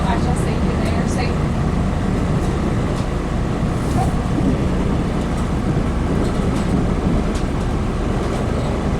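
Irish Rail Class 3000 train running: a loud, steady rumble and roar throughout, as heard on board, with faint voices now and then under the constant noise.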